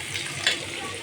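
Fish frying in oil with garlic paste and chili paste, a continuous close crackling sizzle across the whole short moment.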